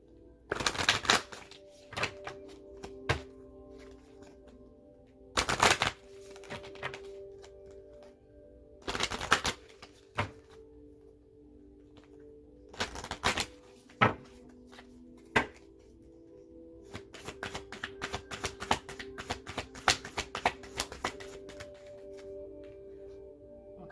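Oracle cards from a sacred wealth deck shuffled by hand, giving bursts of crisp riffling and slapping at irregular intervals, fairly close, with quiet gaps between and no voices.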